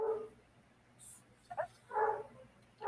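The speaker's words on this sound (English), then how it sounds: "My dog's going crazy." A pet dog barks indoors in a few short, sharp yips spread across a couple of seconds, fairly close but not loud, with a quiet room tone between the barks.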